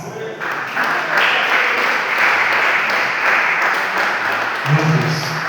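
A church congregation claps during worship, a sustained wash of clapping filling the room at steady volume, with a voice coming in near the end.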